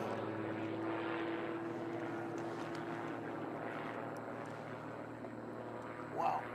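An aerobatic propeller airplane flying unlimited power aerobatics at a national competition, its engine droning steadily from a distance, swelling and fading as it holds a vertical line, with no voices.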